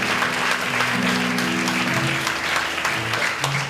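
A church congregation claps in thanks during a Korean worship service, a steady wash of hand claps with a few voices and held tones underneath.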